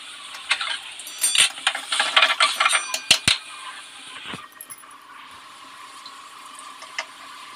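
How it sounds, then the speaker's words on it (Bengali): Water poured into a hot kadai while making kulcha, a burst of sharp hissing and crackling spatter for a few seconds with metallic clinks, then settling into a quieter, steady simmering hiss. "একটা কড়া গরম করে নিয়ে কিছুটা দিয়ে দেব জল।"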